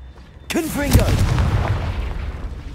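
A single Confringo blast spell in Hogwarts Legacy, a loud booming burst that trails into a rumbling decay, with a voice over the top.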